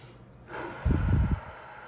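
A single deep inhalation sounds close to the microphone, rising from quiet into a full airy breath with a brief rough, snort-like texture, then fading.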